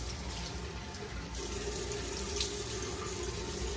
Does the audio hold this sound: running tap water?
yes